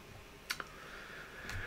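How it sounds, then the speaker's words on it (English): A computer mouse gives two quick light clicks close together, then one more click a second later, faint and isolated against a quiet hum. "So then you click that"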